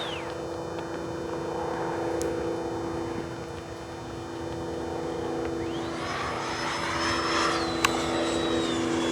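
A Freewing 90mm F-22 RC model jet flies overhead, its ducted-fan whine holding a steady drone with a rising, passing sweep toward the end, moderately loud outdoors.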